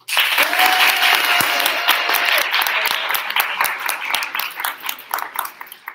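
A school audience at a senior showcase claps on cue in a practice round, loud dense applause that gradually thins into scattered individual claps, with a brief tonal hum early on and no voices over it.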